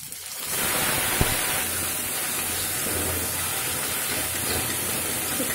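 Ginger, garlic and onion paste with cumin and a green chili frying in a pan, giving a loud, steady sizzle and hiss that holds unbroken from start to finish, with no talking.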